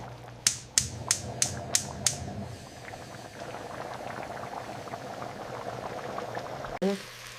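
Stir-fry sauce for beef and broccoli bubbling steadily in the pan as it thickens, a dense, continuous simmer that runs close and even, opened by a few sharp clicks and ending with a brief thump.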